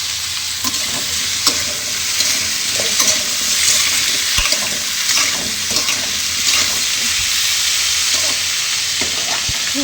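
Pointed gourd and potato frying with spices in a pan, a loud continuous sizzle close up with scraping stirring strokes scattered throughout, no voices.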